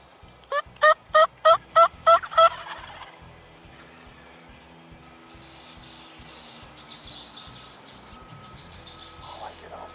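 Wild turkeys, a group of jakes and a tom, gobble in a rapid burst of about six loud, close calls early on, then fall away to quieter field ambience with faint bird chirps.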